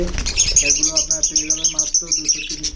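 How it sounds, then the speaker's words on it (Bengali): Budgerigars chirp at a bird seller's in a busy, rapid run of close, high twittering calls that carry on without pause. "এখানে আছে বদ্রি বিভিন্ন রকমের কালারে বদ্রি আছে"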